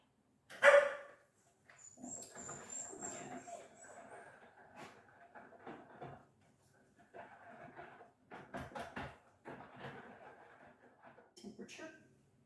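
A dog named Argus lets out one sharp, loud bark indoors, reacting to tapping he takes for a knock at the door; a person then talks at length, with faint dog whimpers mixed in.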